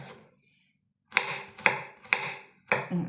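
A knife chopping a lemon on a cutting board: four firm, close chops about half a second apart after a short quiet start, each a crisp knock with a quick decay.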